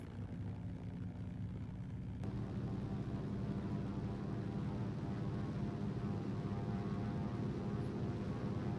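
A de Havilland Beaver floatplane's radial engine throttling up to 1750 RPM, a loud, steady droning propeller roar that steps up in intensity about two seconds in and then holds continuously.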